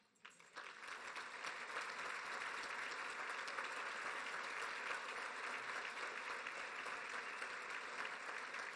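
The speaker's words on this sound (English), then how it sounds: "Please let's give a warm applause as we invite them to stand, the DMS team, and be recognized." Warm applause fills a room at a community breakfast as a staff team stands to be recognized, a sustained wash of many hands clapping that rises quickly and holds steady, fairly faint and distant.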